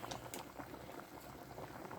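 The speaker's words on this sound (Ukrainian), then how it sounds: "Так, все, кипіть, хай кипіть" A pot of water boiling on a stove, made slightly alkaline, gives off a constant bubbling and popping at moderate level, with no speech.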